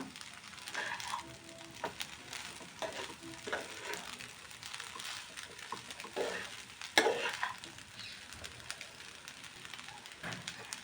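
Spoon scraping and stirring masala pasta in a hot pan, with soft sizzling underneath and irregular clacks of utensil against metal, fairly quiet and without speech.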